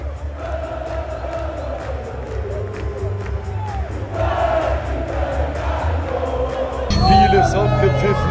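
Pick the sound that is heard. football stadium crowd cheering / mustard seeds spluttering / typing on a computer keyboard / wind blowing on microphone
football stadium crowd cheering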